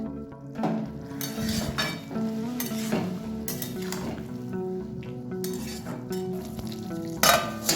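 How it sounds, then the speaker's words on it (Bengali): Spoon clanks against a pan while three finely chopped green chilies are stirred into sizzling potato and cauliflower filling for pitha, with rhythmic scraping strokes over a steady frying hiss. "এর মধ্যে 3টে কাঁচা লঙ্কাকে আমি খুব ছোট ছোট করে কুচিয়ে নিয়েছি, সেটা দিয়ে দিলাম। একটু নেড়ে চেড়ে দেবো।"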